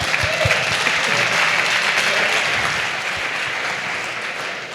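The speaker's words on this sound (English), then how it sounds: "So for that, I just want us all to clap and say, hey, welcome back." Sustained applause from an audience at a live entrepreneurship event in Dallas, a dense steady wash of many hands clapping that carries on evenly throughout and eases slightly toward the end.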